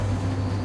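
A train runs with a steady low mechanical rumble and drone in The Walking Dead video game, continuous and moderately loud throughout, with no voices.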